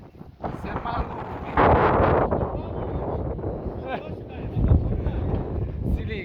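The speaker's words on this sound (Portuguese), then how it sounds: "terminal de carga, um vento forte" Strong gusty wind buffets the microphone at a cargo terminal, a loud continuous rumbling roar with surges, while people talk over it.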